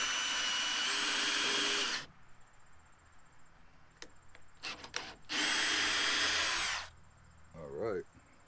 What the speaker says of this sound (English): I'm going to go ahead and get a pilot hole in it.